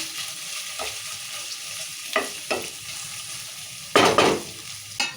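Wheat rava upma with curry leaves and coriander stirred in a pan, with a soft sizzle under several distinct scraping spoon strokes, the loudest near the end.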